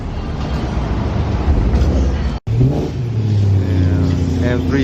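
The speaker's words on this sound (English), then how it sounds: "M3 sounds good." BMW M3 engine at an automotive shop, a steady loud idle and rev with a deep low rumble, briefly cut off midway, then a rising tonal engine note.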